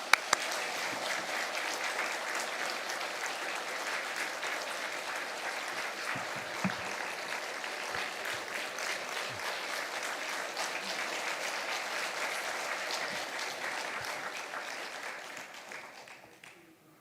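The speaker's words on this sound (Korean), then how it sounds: "우리 목사님, 우리 환영과 감사의 박수로 격려하겠습니다" A church congregation at a Sunday afternoon worship service claps steadily to welcome their pastor, a sustained wash of applause that fades out at the end.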